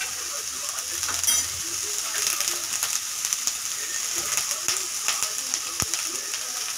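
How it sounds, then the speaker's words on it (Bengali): Chopped onions, two medium ones cut into chunks, sizzle steadily in hot oil in a pan, a continuous bright crackle with scattered small pops, close and fairly loud, no voices. "তেলটা গরম হয়ে গেছে, ওই তেলে দিয়ে দেব 2 মিডিয়াম সাইজ কুচানো পেঁয়াজ।"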